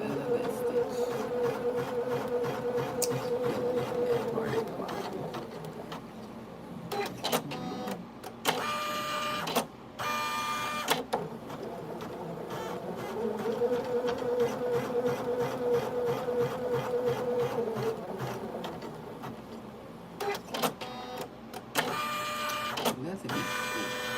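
A computerized embroidery machine sews a digitized satin-stitch design, its steady mechanical whirring hum rising and falling in long cycles with occasional brief clicks, close and continuous without talk.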